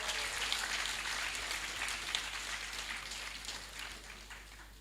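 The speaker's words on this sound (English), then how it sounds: "Let's give them a round of applause" An audience at a medical graduates' induction and swearing-in ceremony applauds the new doctors, a steady, distant patter of clapping from a large crowd that slowly fades.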